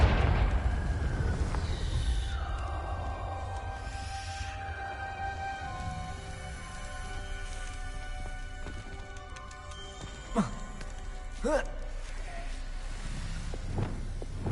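A Confringo blasting spell explodes in Hogwarts Legacy, a loud low boom at the start that rumbles and fades under game music, followed by a few sharp whooshing magical bursts later on.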